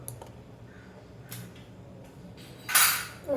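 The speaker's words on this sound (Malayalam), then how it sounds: "സ്പൂൺ അവിടെ വെച്ചിട്ടുണ്ട്." A spoon is set down among kitchen utensils: a few light ticks and taps, then one brighter metallic clink, quiet and close in a still room.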